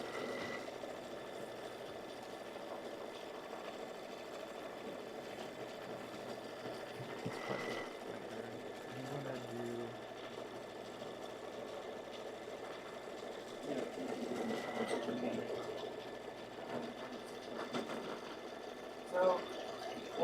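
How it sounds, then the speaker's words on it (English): An embroidery machine stitching out a pillow design hums with a steady mechanical whir and needle chatter throughout, running quietly in the background while people talk over it. "while this is stitching out now"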